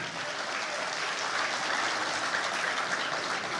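A crowd applauds steadily, the dense patter of many hands clapping at once holding an even level throughout.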